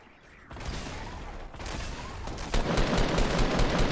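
Rapid video game gunfire bursts in a shooter, loud and close, intensifying into dense volleys toward the end.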